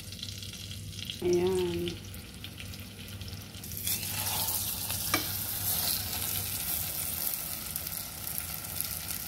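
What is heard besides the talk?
cooking pork roast with flour in a pan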